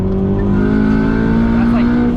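A turbocharged K20 engine in an 8th-generation Honda Civic Si drones steadily with strong low harmonics, its pitch settling as it downshifts from fourth to third gear; a voice speaks briefly over the engine noise.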